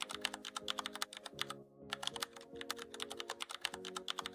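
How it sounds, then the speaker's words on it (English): Rapid, irregular clatter of keys on a computer keyboard as a web address is typed, close and clear, with one short pause partway through and no talking. "simply go to the address bar and type in www.youtube.com"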